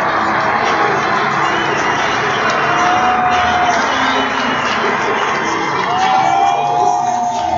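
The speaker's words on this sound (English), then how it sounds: "Huge hand from the crowd." Football crowd roaring and cheering after a made go-ahead kick in a Raiders vs. SteelHawks game, a loud sustained wall of cheers, whoops and shouts filling the whole stretch.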